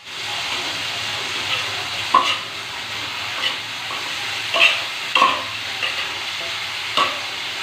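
Bitter gourd (ampalaya) frying in a pan, with a steady close sizzle and hiss, broken by occasional scraping stirs and clinks.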